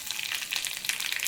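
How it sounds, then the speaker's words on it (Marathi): Cumin and mustard seeds crackle and sizzle in hot oil in a kadhai while a tempering is made, a dense, steady spatter of tiny pops close by with no talking. "त्याच्यात जिरा आणि मोहरी टाकून घेऊया. तडतडायला लागेल"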